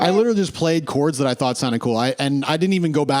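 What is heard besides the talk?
No everyday noises stand out.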